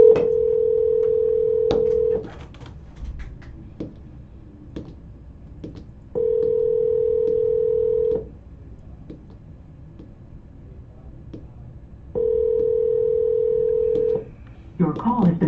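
Three sustained telephone dial tones, each about two seconds long, sound at steady intervals between stretches of quieter clicks and background noise, with brief bursts of dialing near the end.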